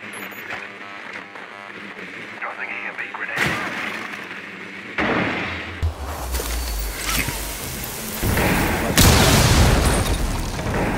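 A grenade goes off in a tactical shooter match on the Consulate map, one of several heavy booms among bursts of gunfire and loud, chaotic action, with voices talking over the noise.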